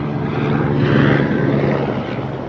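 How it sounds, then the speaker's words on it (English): Steady, loud rotor-and-engine drone of a helicopter in the Madagascar video game passing close by, swelling slightly in the middle before easing off, with no voices. "Helicopter."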